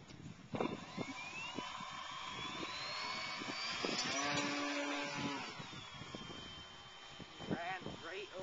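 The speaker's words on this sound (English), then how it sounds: "Okay, that was a short takeoff." A small stick-control aircraft revs its engine through a short takeoff, a whining motor tone climbing and shifting pitch over several seconds, moderately close, with voices talking around it.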